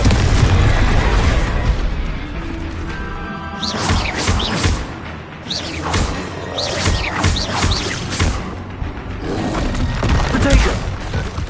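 A Confringo spell blast goes off in the video game Hogwarts Legacy, with loud booming explosions and crackling bursts amid other spell effects and clattering combat sounds. A voice speaks faintly under the action.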